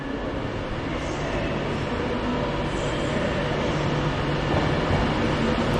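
An Avanti service to Blackpool moves at Preston station, giving a steady low rumble of rolling stock and wheels that holds evenly throughout without talk.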